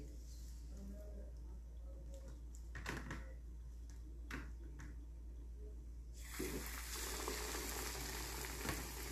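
Brinjal slices for bajji going into hot oil: a faint, quiet sizzle that swells into a steadier, louder frying hiss partway through, with a few soft clatters before it.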